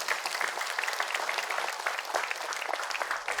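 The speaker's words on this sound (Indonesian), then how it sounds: "Tepuk tangan semua boleh." An audience in a studio applauds on cue, giving dense, even clapping from many hands that runs steadily throughout at a moderate level, with no talk over it.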